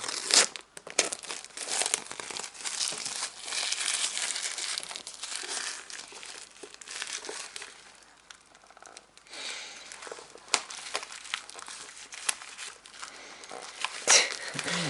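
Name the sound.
paper packaging crinkling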